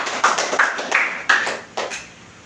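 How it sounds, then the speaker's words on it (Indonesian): A handful of claps ring out in a classroom for a student, a brief, uneven burst of about five or six close hand claps that fades quickly. "tepuk tangan untuk Zaki."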